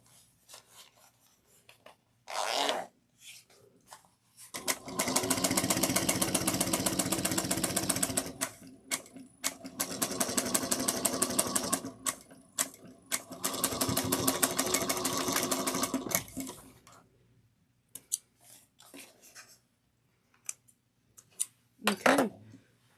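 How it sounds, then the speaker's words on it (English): A sewing machine runs in several separate stretches of fast, even stitching on a zipper pouch, split by quiet pauses with small handling and rustling noises between them, close and clear. "we're going to sew this together at 1/4 of an inch"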